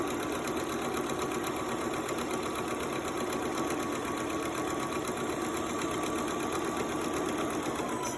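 A sewing machine runs steadily, stitching short measured lines on a frame seam, its fast even whir continuous and close throughout with no pauses or talk.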